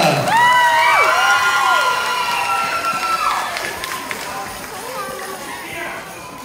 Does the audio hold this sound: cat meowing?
no